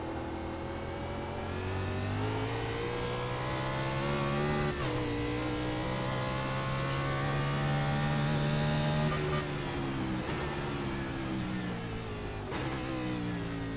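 An Xfinity race car in a racing video game on the Chicago Street Course, the engine droning and revving steadily with pitch rising and falling through gear changes, and brief tire slip sounds, loud and continuous without speech.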